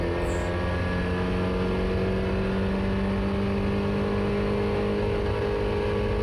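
A Mazda MX5 running hard on the track at Oulton Park, its engine held at high revs in a loud, steady, close drone that keeps a constant pitch throughout.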